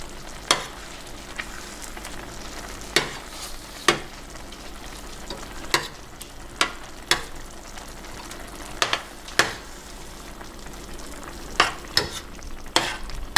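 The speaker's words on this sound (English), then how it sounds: "I'm using a spoon to kind of move this around a little bit" A spoon scrapes and knocks through spaghetti sauce with sugar in a pan, giving sharp, irregular clinks over a steady low sizzle, close and alone with no voices.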